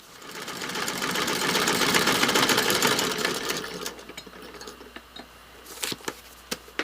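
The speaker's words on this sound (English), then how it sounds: "So now I can sew it." A sewing machine stitches a paper-pieced quilt block with a fast, close, humming whir for about four seconds, then stops, leaving a few sharp clicks and taps.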